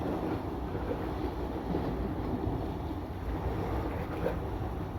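Steady seaside waves and wind rush continuously at a beach during a drone show, forming an even, moderately quiet wash of noise with no voices.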